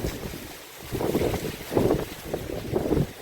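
Strong cold wind gusts in Jamnagar as light rain begins, a loud, continuous roaring rush with surging swells of buffeting against the microphone.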